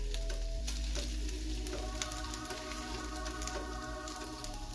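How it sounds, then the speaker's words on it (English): Bacon frying in a pan, a continuous crackling sizzle with scattered pops and a low hum beneath, close and fairly quiet with no one talking. "Get our bacons flipped over."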